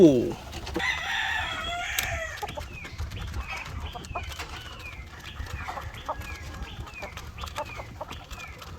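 Farmyard chickens cluck and call near and far while feeding in the morning, a rooster crowing early on, with repeated short clucks and squawks scattered throughout.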